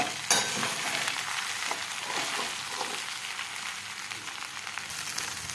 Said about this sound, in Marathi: आता पोह्यांना घेऊया छान असं परतून